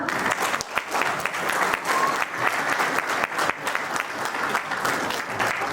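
Loud, sustained applause fills a hall at a JCI Raipur Sangwari award function in 2023, many hands clapping densely and evenly for several seconds with a faint murmur of voices underneath.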